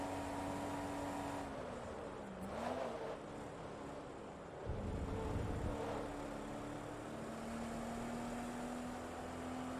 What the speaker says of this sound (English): The engine always sounds really rough